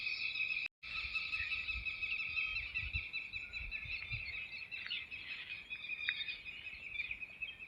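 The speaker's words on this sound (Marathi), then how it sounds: "पक्ष्यांचा एकदम गोंधळ चाललेला आहे" Morning birdsong outside a house yard, a dense busy chorus of high chirps and trills layered together at moderate distance, fairly faint and continuous.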